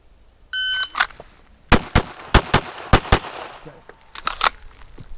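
Live pistol gunfire at a shooting practice range: a beep starts the string, then sharp, loud shots come in quick bursts of two with brief pauses, closely spaced with metallic ringing between.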